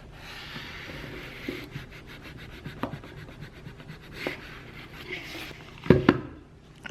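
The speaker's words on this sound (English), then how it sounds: "I'm going to sand off these edges here in a second." Sandpaper rubbing along the edges of decoupaged tissue paper on a crafted piece, a soft, close scratchy rasp in short irregular strokes with a few sharper scuffs near the end.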